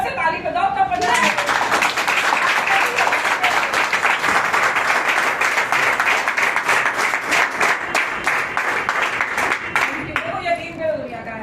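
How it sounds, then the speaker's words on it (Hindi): A large audience bursts into loud, sustained applause at a TIENS motivational speech event, dense clapping that swells in after a second and holds steady for about nine seconds before easing off. "जोर से ताली बजाओ तब बनना है।"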